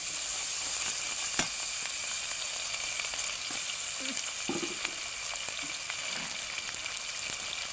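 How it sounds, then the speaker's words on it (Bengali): Ginger garlic paste sizzling in hot oil with cardamom and cinnamon after onions have browned, a dense steady frying hiss broken by faint pops and a couple of utensil taps, close and unbroken, with no talking. "দিয়ে দিব আদা রসুন পেস্ট"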